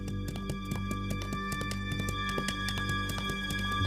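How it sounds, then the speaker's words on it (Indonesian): Horse hooves walking in a steady, quick clip-clop rhythm of light taps, fairly faint and even throughout, with no talk. "Suara kuda berjalan juga terdengar di telinga kami."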